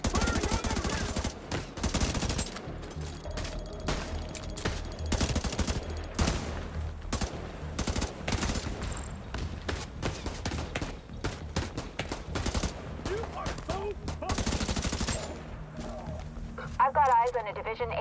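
Gunfire in The Division 2, with loud rapid bursts of automatic fire and single shots cracking close up over continuous battle noise, and voices shouting in between.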